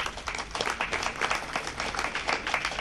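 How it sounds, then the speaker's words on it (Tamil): An audience at a devotional Tirumurai celebration claps together, a full, lively patter of many hands that stays strong and even throughout, with no speech over it. "நீங்கள் எல்லாம் கைத்தட்டி விட்டதினாலே"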